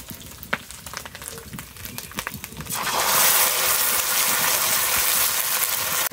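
Paste of ground nuts and melon seeds is dropped into spiced oil in a pan, starting with scattered stirring clicks, then bursting into a loud, steady hiss and sizzle that fills the rest of the moment.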